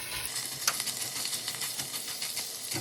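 Sausage pieces sizzle and crackle steadily in a soup pot as their fat renders, a close, continuous frying hiss with small pops and no talking.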